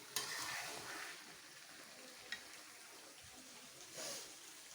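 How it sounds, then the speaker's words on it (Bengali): Meat is stirred and fried down in a pan, giving a steady, fairly soft sizzle with occasional scrapes and clacks of the spoon against the pan. "সেই যে দেখতেছেন আমি মাংস কষাচ্ছি"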